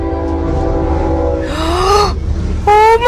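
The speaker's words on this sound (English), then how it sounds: "Midland deputy vehicle hit by train, flipped over." A train sounds its horn in loud, sustained blasts over heavy rumbling, the tone bending briefly before a final steady blast, with no audible crash.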